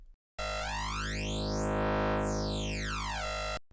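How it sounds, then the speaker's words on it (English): A buzzy wavetable synthesizer drone, unfiltered, with a whooshing flanger sweep captured into the wavetable that rises then falls, sustained for about three seconds before stopping abruptly. "And this wavetable, without it going through the filter, sounds like this."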